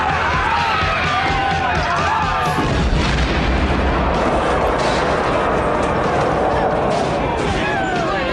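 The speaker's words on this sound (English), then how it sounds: "I will say the explosions in this movie were great." Loud, dense explosions and booming blasts with rumbling debris from the film Maximum Overdrive, mixed with music and crowd-like noise throughout.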